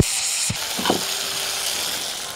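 Chicken sizzles steadily in a hot pan while being sautéed for a Bengali flat bean bharta, a loud continuous fry broken by a couple of brief stirring scrapes near the start.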